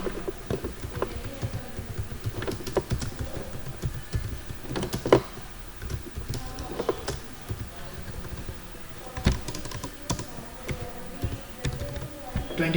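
Keystrokes tapped on a computer keyboard while entering a narration into Tally Prime accounting software, a steady patter of quick clicks under a low murmur of background noise.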